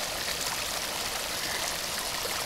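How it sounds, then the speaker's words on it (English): Water drains through rocks and spills into a small stream at a pretty June campsite, a steady broadband trickling rush that stays close and even throughout with no voices. "All this water draining through the rocks coming out at the bottom"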